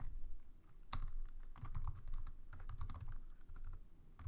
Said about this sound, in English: I'm supposed to type the full thing